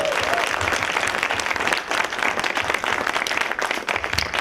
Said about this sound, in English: Can we please hear a round of applause for Ruth Leitman?